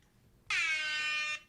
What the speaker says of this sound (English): The air horn will sound